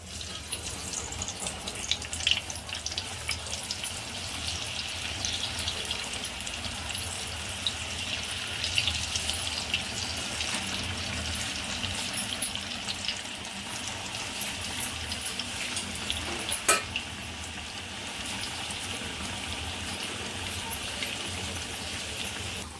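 Alu vadi, colocasia leaf rolls, deep-frying in hot oil over a low gas flame, giving a steady, close, even sizzle that runs unbroken from start to finish with no talking.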